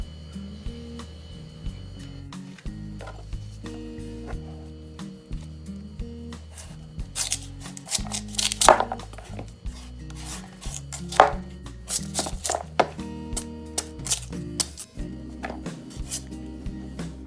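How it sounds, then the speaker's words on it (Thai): Kohlrabi from Korea being peeled as a papaya substitute for Thai papaya salad gives a string of near, dry scraping and cutting strokes, irregular and loudest midway, over steady low background music. "เดี๋ยวผมจะ เอาไปปอกเปลือกกันนะครับ"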